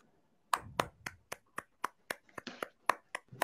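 Sparse, sharp hand claps from a small audience follow a card trick, about a dozen distinct claps in an uneven rhythm, close and crisp with no talking.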